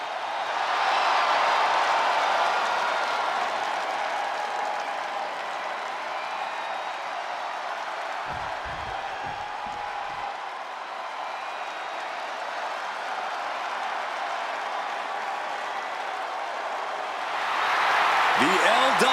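A wrestling arena crowd cheers and applauds steadily throughout, a broad roar of clapping and voices that swells again at the end, with a commentator talking over it.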